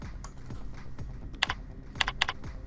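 Computer keyboard typing as a new crop yield is entered in software: a few soft key taps, then short quick bursts of crisp clicks in pairs and triplets, close up and unaccompanied by speech.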